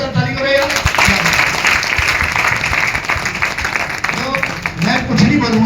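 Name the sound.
loud applause from audience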